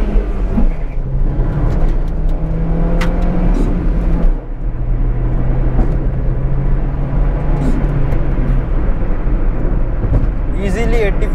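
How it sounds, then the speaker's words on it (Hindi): A Hyundai i10 Magna 1.2 Kappa engine runs close by and revs up quickly toward its roughly 6,500 RPM redline with rising and falling pitch, while someone talks over it throughout. "रेव करता हूँ इंजन को तो ये बहुत जल्दी रेव होता है"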